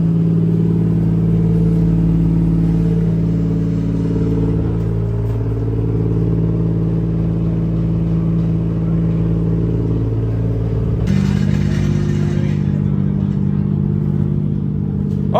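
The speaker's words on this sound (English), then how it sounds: "Just warming up the car a little bit." A Toyota JZX110 drift car engine warms up at idle with a deep, continuous rumble close by at a drift event, its tone shifting slightly near the end.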